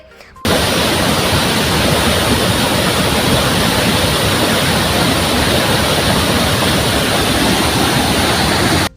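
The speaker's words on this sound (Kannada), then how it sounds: "ಕಲ್ಲುಗಳ ಮೇಲಿಂದ ಬೀಳುವ ನೀರಿನ ರಭಸದಿಂದ ಜಲಪಾತ ಸೃಷ್ಟಿಯಾಗುತ್ತದೆ" Loud, steady roar of a waterfall pouring down about 20 feet over rocks at Kabbaragi, Kushtagi taluk, Koppal district, Karnataka; broadband and unbroken from start to end, close by.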